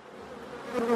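Honeybees buzz at an open beehive box, a dense insect hum that swells steadily louder over a second, close and with no voices.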